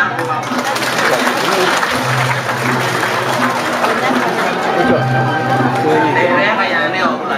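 An audience applauding at a Balinese Drama Gong comedy performance in Bangli, as steady dense clapping mixed with crowd chatter and a little speech throughout.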